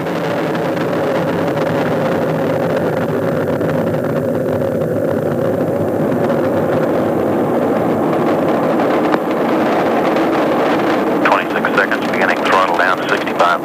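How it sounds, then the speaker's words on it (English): Space Shuttle Atlantis on its first launch, STS-51J in 1985, roaring steadily at liftoff as a continuous broadband rumble heard from a distance, with mission-control commentary carrying over it throughout. "Liftoff of Atlantis. A new orbiter joins the shuttle fleet, and it has cleared the tower."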